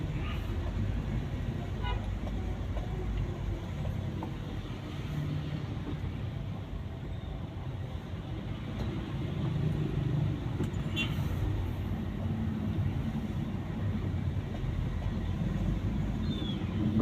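Busy road traffic jam at Batu Jajar market with idling and slowly moving engines, a few horn toots, and indistinct voices in the background.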